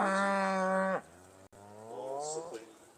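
Beef Shorthorn cattle at the Great Yorkshire Show, suckling calves and cows with milk: two long, loud moos close by, the first strong and steady, the second rising after a short pause.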